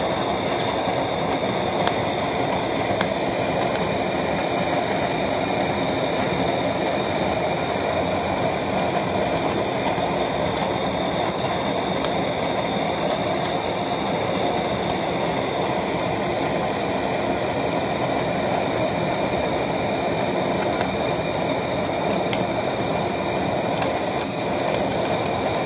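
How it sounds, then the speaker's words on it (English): A Searzall torch sears a piece of room-temperature meat with a loud continuous roaring hiss, and faint crackles of bubbling fat sit under the steady flame noise, with no talking. "You see that fat bubbling?"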